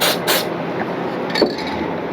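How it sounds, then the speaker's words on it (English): Mold release sprayed from an aerosol can onto a resin fishing bait mold, with two short hissing bursts at the start and a faint clatter later, close and without talk. "I'm just going to spray it a little bit with some mold release"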